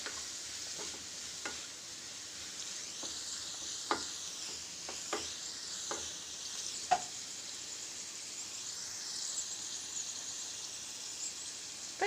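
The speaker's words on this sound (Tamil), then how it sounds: "இப்போ இந்த கிழங்கு இந்த ஆயிலே நல்லா வேகட்டும்." Potatoes frying in oil in a pan, giving a soft continuous sizzle with occasional scraping stirs and small pops, close and fairly quiet, with no one speaking.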